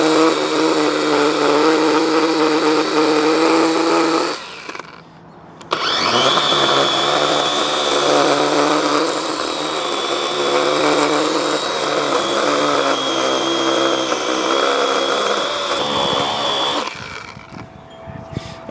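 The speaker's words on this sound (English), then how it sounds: "my chainsaw is not very sharp anymore" A dull chainsaw cuts into a tree stump, its motor snarling loudly and close up under load for long stretches, with a short drop to idle partway through and a second drop near the end.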